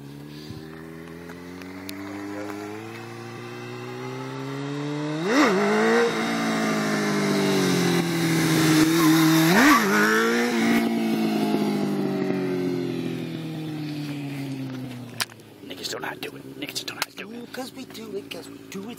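A motorcycle engine revs hard in repeated rising pulls as a rider attempts a wheelie on a road, the bike passing close and loud before dropping back, with people talking around it.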